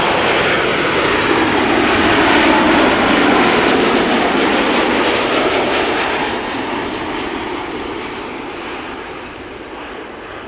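Jet airliner taxiing at Amsterdam Schiphol Airport, a loud steady engine roar and broadband rush that holds strong throughout and eases slightly toward the end, with no talking.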